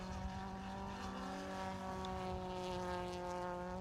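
A Citroen rally car engine holds a steady, droning rev at a distance, a constant mechanical hum with layered tones and no sharp changes in pitch.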